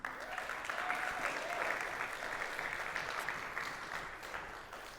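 Sustained applause from a church congregation for students at a send-off service, dense clapping lasting several seconds and easing slightly at the end, with no talk over it.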